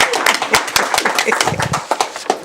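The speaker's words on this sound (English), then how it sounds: "I think she deserves a big round of applause." A round of applause from attendees at a cultural commission meeting, brisk uneven clapping by a small group at close range, with voices and cheering mixed in.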